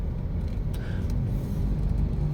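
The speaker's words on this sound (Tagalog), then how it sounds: "Ayan, traffic yung papuntang Cubao." Dense, steady rumble of heavy road traffic on the EDSA bridge toward Cubao, with cars and buses droning continuously, a faint brake hiss or two cutting through.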